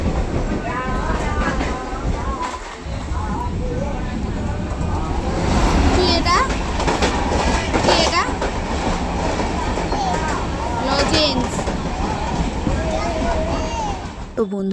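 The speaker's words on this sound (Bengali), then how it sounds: "তারপরে আমাদের ট্রেন চলে এসেছিল।" Passenger train pulling into a station: a steady rumbling roar with wheel clatter and brake squeals runs throughout, loud and close, with voices and chatter from people on the platform mixed in.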